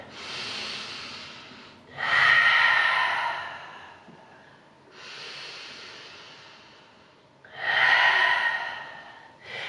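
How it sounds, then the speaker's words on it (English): Two big breaths taken during a slow-flow yoga session, each a long, close inhale followed by a fuller exhale in an even, unhurried rhythm, with no voices. "We'll take 2 more big breaths here."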